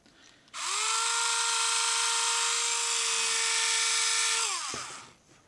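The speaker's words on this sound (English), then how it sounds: "Then I'm going to use my little handy drill." A small hand drill whirs at a high steady pitch for about four seconds while drilling a miniature model, then winds down, close and alone.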